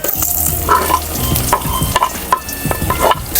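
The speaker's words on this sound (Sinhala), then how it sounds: "ලුණු ටික හොඳින් තෙලේ ටෙම්පරාදු කරගමු." Onions frying in hot coconut oil in a clay pot, a loud steady sizzle with scattered stirring knocks and scrapes, close up and without any voice.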